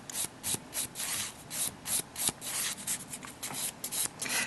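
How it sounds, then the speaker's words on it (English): A nail file strokes lightly back and forth across a sculptured pink-and-white acrylic nail, giving close, soft rasping rubs in a quick, uneven rhythm. "using a file with a very light touch."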